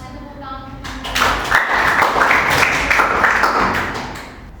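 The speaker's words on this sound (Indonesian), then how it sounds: "Kasih tepuk tangan." Students in a high school classroom break into applause after a lesson, a dense wash of clapping that starts abruptly after a quieter opening and holds steady for several seconds before easing slightly.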